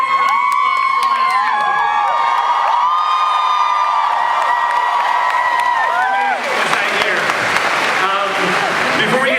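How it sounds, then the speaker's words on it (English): A large convention hall audience at San Diego Comic-Con applauds and cheers the Arrow panel, with loud sustained clapping, whoops and shouts filling the space from start to finish and swelling into a denser roar near the end. "let's give these guys a round of applause"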